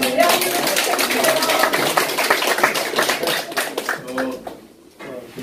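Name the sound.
audience applause at a forum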